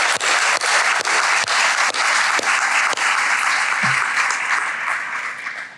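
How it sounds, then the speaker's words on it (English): An audience at a research, industry and education panel applauds warmly for the panelists, with steady, dense clapping that tapers off toward the end. "let's give them a big round of applause."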